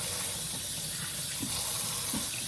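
Steady running water from a kitchen sink tap while celery is rinsed, a continuous close hiss with small splashes and no talking.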